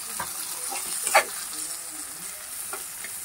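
Onions, garlic and green chillies frying in hot oil for a bitter gourd dish, giving a steady close sizzle with a few brief pops and stirring scrapes.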